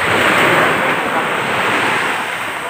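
Ocean surf crashes steadily onto a dark shore at night, a loud, continuous wash of breaking waves with wind noise across the microphone, holding strong throughout.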